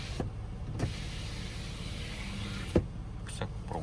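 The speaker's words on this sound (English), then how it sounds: "I believe this is to open the back window." The power rear sliding window of a 2020 Ford F-150 Raptor pickup truck whirs open with a steady electric motor hum lasting a few seconds, bracketed by soft mechanical clicks, close by and with no voices.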